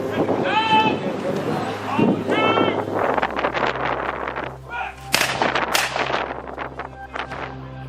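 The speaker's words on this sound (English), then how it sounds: "Firing at will now." Re-enactors fire muskets at a Jacobite re-enactment at Swarkestone Bridge, with loud, sharp gunshot cracks scattered irregularly over wind noise and a commentator's voice, some shots overlapping in quick succession.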